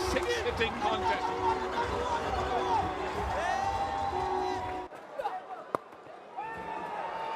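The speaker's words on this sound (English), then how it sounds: "This crowd is going crazy" Cricket stadium crowd roaring as West Indies bring up a hundred runs, a dense, loud wall of cheering and whoops that suddenly drops away, then swells again in patches, with commentary voices on top.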